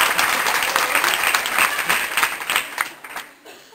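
A high school audience in Denmark claps on request at a satirical party speech, a dense, loud burst of applause that thins out and fades toward the end.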